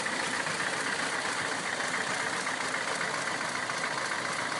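Stock 1934 Packard Super 8 coupe engine idling slowly at around 500 RPM, a steady even rumble heard close up with a broad hissy wash over it and no talking.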